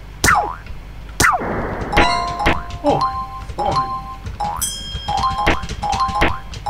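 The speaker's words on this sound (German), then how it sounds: "diese Glocke heißt praktisch das Speichern" A bright bell chime marks a save point in the SuperTux 2 platformer, ringing out amid repeated springy boing effects and game tones, with a short spoken exclamation.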